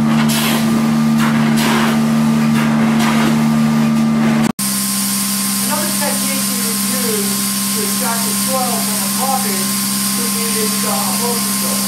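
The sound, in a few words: carpet cleaning extraction machine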